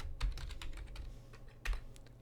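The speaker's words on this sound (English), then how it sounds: "Typing in the username and password again." Someone types a username and password on a computer keyboard, producing quick, close clicky keystrokes in irregular bursts, with two heavier key presses standing out among the lighter taps.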